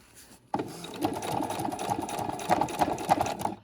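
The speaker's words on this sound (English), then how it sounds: "You're just sewing a square." A sewing machine stitches a square box pattern onto a backpack strap, starting abruptly and running steadily for about three seconds with a rapid, even mechanical chatter, close and clear.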